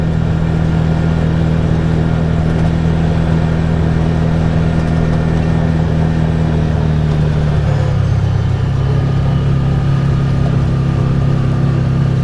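A Massimo MSU 850 side-by-side cruising at about 20 mph in low range, giving a loud, steady, close engine drone with a constant hum that drops slightly in pitch partway through.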